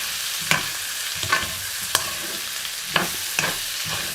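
Half-fried pork frying in a pan with kale: steady sizzle with periodic scraping stirs of a spatula, close and continuous, no talking.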